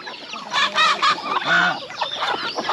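Broiler chickens clucking and squawking close by, busy overlapping calls with a few louder bursts, no talking.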